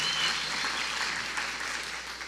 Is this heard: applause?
yes